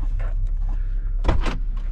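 A Jeep Wrangler JL car door opens with a close, loud latch clunk followed by a couple of short mechanical knocks over a low background hum.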